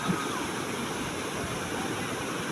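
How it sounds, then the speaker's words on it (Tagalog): Steady, loud rush of a fast-flowing mountain stream near Pinlac Falls, Infanta, Quezon, a dense continuous roar of strong current with no pauses. "papakita ko sa inyo na sapa kung tawagin ay napakalakas ng agos"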